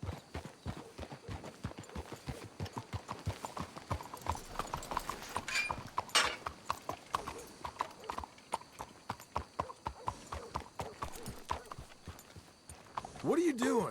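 Horses clip-clopping at a steady trot in Red Dead Redemption 2, a dense run of close hoofbeats throughout with a brief whinny near the end.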